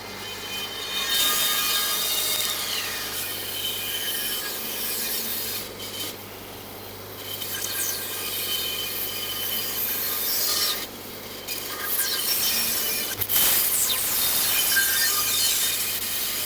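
A bandsaw cutting a shape out of wood produces a continuous harsh rasping hum with shifting pitch as the blade follows curves, broken by a few short pauses and a sharp snap near the end, close and loud.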